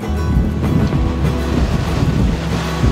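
Strong wind rushes across a mangrove beach and blasts the microphone, with a loud, steady roar of sea and surf beneath it and no speech.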